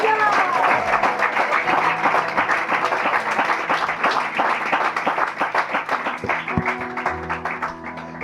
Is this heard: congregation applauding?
yes